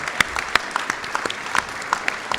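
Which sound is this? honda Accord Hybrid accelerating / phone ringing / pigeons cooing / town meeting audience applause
town meeting audience applause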